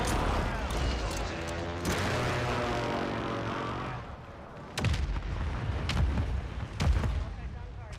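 Mortar rounds impacting during a video game match, several loud booming explosions with rumbling tails, the first with a long ringing decay and three sharper blasts following in close succession near the end.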